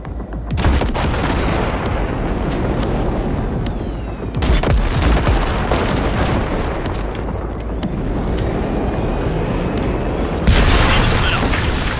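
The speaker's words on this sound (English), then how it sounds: "there's a monster gate that needs to be blown open" Heavy explosions boom in Cyberpunk 2077 as a huge gate is blasted open: a loud rumbling roar, with fresh blasts near 0.5, 4.4 and 10.5 seconds.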